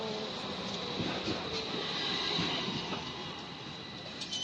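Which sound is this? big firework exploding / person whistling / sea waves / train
train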